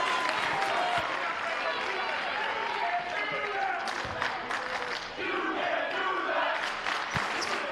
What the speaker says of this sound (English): HK crowd gets loud again.